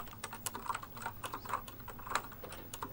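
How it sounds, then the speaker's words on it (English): Fast typing on a keyboard, a quick irregular run of soft clicking keystrokes at close range, fairly quiet, with no talk over it. "she's a quick typer though."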